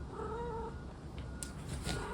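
Several house cats meow around a camera tripod indoors, their mewing calls harmonic and fairly close, wavering over a steady low room hum with no talking.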